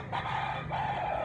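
Red bullstag rooster crowing, a short close crow in two bursts with clucky tone, loud and clear with no talking.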